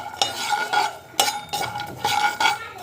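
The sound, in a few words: walnuts frying and being stirred in a pan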